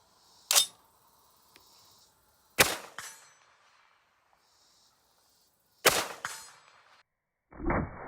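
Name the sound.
GA Precision GAP-10 rifle shots at the range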